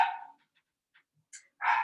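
Dogs barking in a house: a loud close bark at the start, a few faint distant yips in the middle, then another loud bark at the end, with quiet gaps between.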